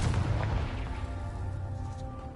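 Confringo fire spell from Hogwarts Legacy going off as a heavy booming blast, with a loud low rumble up front that fades into a sustained roaring decay with tonal hum underneath.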